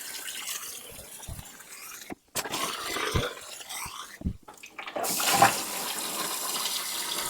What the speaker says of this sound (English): We'll add water so that each of these tanks becomes rapid fixer diluted